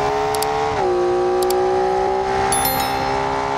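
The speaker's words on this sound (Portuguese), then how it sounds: "E a Porsche vem subindo." Porsche engine in BeamNG.drive, a steady tonal hum that dips in pitch as the revs drop, then holds even and loud, with faint brief ticks over it and no voice.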